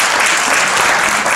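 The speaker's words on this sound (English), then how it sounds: "I want everyone out here to really let the youth know by a round of applause that we are with you" At a Black History Month flag raising, a crowd gives loud, close, sustained applause for the youth, a dense wall of clapping with no pause.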